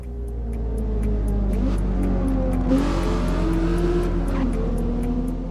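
A race car in the video game Forza Motorsport pulls off to the roadside, its engine droning steadily and loud throughout with shifting revs and faint tire noise, alone without talk.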